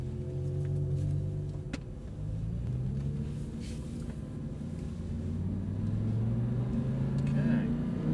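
Audi R8 rolling slowly through the Silverstone pit lane, its engine holding a steady low rumble with rising and falling gear tones, close and continuous, with voices talking over it.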